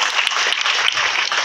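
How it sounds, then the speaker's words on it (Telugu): Students clap together at a school parent-teacher meeting, a loud, dense, continuous burst of applause filling the room with no voices over it. "అందరూ క్లాప్స్ కట్టండి ఒకసారి."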